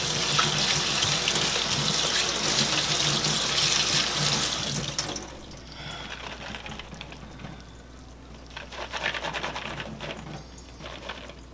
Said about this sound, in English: So, I think I'm going to rinse these.